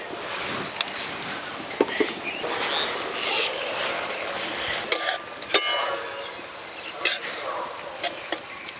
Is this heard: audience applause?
no